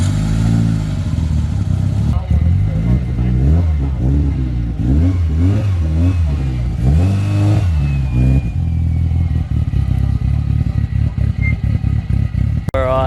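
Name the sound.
modified car engine revving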